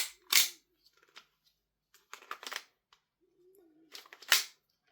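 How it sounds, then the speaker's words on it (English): Tokyo Marui Detonics .45 small-frame gas blowback airsoft pistol firing a few sharp, loud cracks spaced apart, with quieter mechanical clicks and a faint voice between shots. "They're small framed gas blowback pistols, so we're just going to get rid of the rest of the mag."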